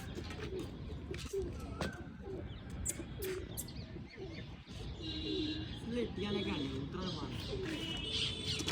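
Pigeons coo in low, repeated phrases amid a busy loft with scattered chirps and clatter, while people talk throughout at close range.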